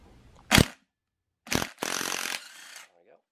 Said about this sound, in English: I'm gonna get the impact gun and see if we can take that nut off without it